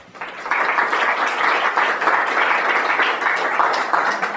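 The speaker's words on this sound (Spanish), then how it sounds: "Ahora sí el aplauso es bienvenido." An audience applauds steadily at the close of a lecture on Vygotsky, a dense, continuous wash of many hands clapping that swells within the first half-second and holds evenly to the end, with no talk over it.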